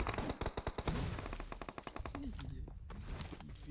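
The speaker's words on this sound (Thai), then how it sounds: "ฝั่งโน้นยิงกระนวลเลย" Heavy automatic gunfire from across the map in PUBG Mobile crackles in dense rapid bursts throughout, moderately close and loud, with a player talking over it at times.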